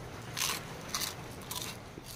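Three crisp crunchy bites into thin homemade seaweed chips, each a short crackling burst with quiet chewing between, close to the ear.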